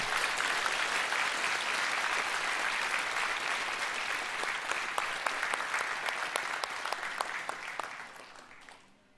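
Church congregation applauds the choir with sustained, dense clapping that fills the room, then gradually thins out and fades toward the end.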